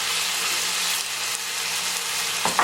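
Eight ounces of mushrooms for chicken marsala fry in a hot pan, giving off a loud, continuous sizzle that stays even throughout, with a small clatter near the end.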